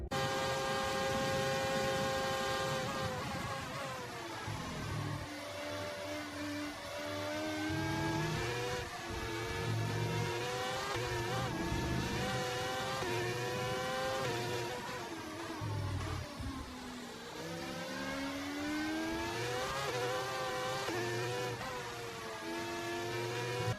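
F1 race cars in a 2022 Esports Series racing game at Bahrain, several high-pitched engines whining and shifting up and down in a steady buzzing stream through a corner, loud and continuous without talk.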